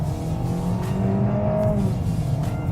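A Hyundai Tucson's engine revs hard nearby, a strained, rising mechanical drone with whining harmonics that climb and settle over a couple of seconds, heard alone.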